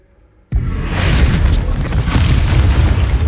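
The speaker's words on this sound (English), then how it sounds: "That created a massive explosion." A sudden massive explosion in the video game Hogwarts Legacy bursts out of near silence with a loud boom, followed by a sustained roaring, crackling rumble that stays dense and heavy.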